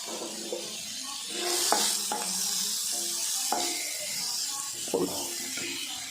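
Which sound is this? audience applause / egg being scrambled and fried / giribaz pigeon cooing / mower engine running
egg being scrambled and fried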